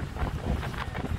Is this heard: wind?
yes